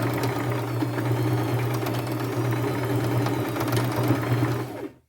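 A sewing machine runs a steady, loud, close whir while stitching a quarter-inch seam down the side of an upcycled artisan bag, then stops abruptly.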